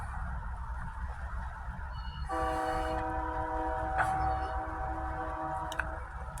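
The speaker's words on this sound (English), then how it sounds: "So if you hear a lot of trains, that's why." Trains pass near a rail yard in Saginaw, a steady low rumble of rolling cars joined partway through by a loud sustained horn blast with stacked tones, fairly close, with faint clicks and clanks.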